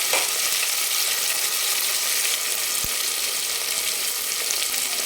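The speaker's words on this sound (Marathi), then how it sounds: "याला पण आपल्याला थोडंसं परतून घ्यायचं आहे" Tomatoes sautéing in a pan for a dry mutton rassa, a steady, even sizzle and crackle that runs unbroken throughout with one faint knock partway, and no talking.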